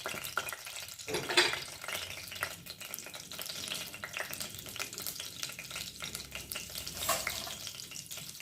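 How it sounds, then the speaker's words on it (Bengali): Fennel seeds sizzling in hot oil in a pan for pea ghugni, a soft continuous crackle and hiss with a few louder spits and stirring scrapes, with no voices. "তার মধ্যে আমি এই মৌরি ফোড়নটা দিয়ে দিলাম"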